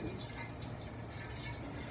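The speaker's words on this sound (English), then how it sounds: "We're just gonna pour the solution in here." Sanitizing solution pours steadily into a jug for cider making, giving a continuous splashing, filling rush of liquid that stays even and close throughout, with no voices.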